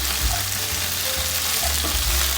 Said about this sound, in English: It's now time to go in with my veggies. I'll also give this a good stir to combine.